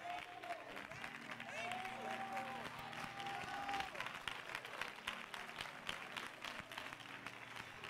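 A church congregation claps along during a worship service, steady clapping mixed with crowd noise and a rising musical tone, with voices in the background.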